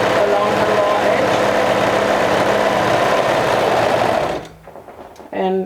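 Sewing machine stitching along a raw fabric edge, a loud continuous rapid whirring hum that stops near the end, followed by a short stretch of speech.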